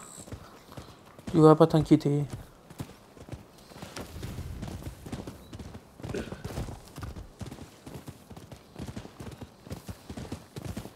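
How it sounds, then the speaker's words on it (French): A horse's hooves clop in an uneven rhythm in the video game Rise of the Rōnin, with a brief whinny early on, while a person talks over it fairly quietly. "Oh, arrête, c'est qu'un cheval."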